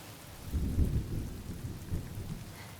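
Rain pours steadily with a deep, rolling rumble of thunder beneath it, a dense continuous storm with no voices, from a Honkai: Star Rail cutscene.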